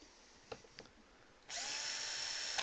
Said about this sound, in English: just pop it in the little drill